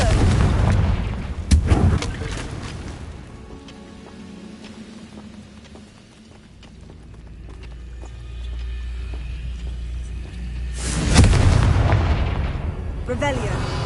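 Two heavy magical fire blasts from the Confringo spell in Hogwarts Legacy on PS5, one early and one near the end, each a loud booming burst over a low rumbling game ambience and music.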